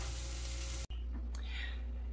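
Salmon and asparagus sizzle in a pan with a dense, steady crackling hiss, close and constant apart from a split-second cut, with faint talk nearby.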